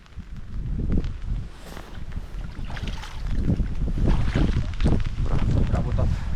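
Strong wind buffets the microphone outdoors while feeder fishing by the water in bad weather with rain starting, a loud continuous rumbling roar with gusty surges throughout.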